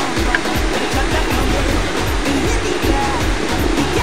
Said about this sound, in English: The falls you are seeing in the background is called Concord Falls number 1.